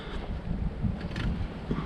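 Wind gusting outdoors in cold, near-freezing weather, a steady low rumble buffeting the microphone with brief swells, no voices.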